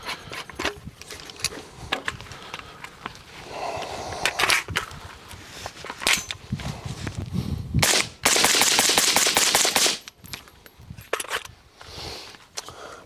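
Rifle shots from a 5.56 firearm fitted with a Dillon Hush Kit suppressor: a series of sharp, muffled cracks in irregular bursts, fairly close, with one longer rapid stretch near the middle.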